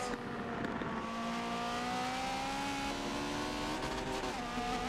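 1980s race cars in a racing video game roar through a lap, engine notes rising and falling steadily as one car loses its back end, with faint tire squeal in the mix.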